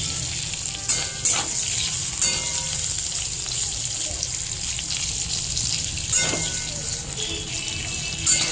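Eggplant frying in a pan for a Bengali fish curry: steady close sizzle with occasional stirring scrapes and clinks, no talking.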